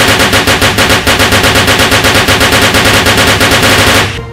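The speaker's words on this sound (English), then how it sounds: "Sniffer, get on the heavy artillery and fire the aircraft!" Heavy automatic machine gun fire from a battle scene rattles in one rapid, evenly pulsed burst, loud and close, for about four seconds before cutting off abruptly.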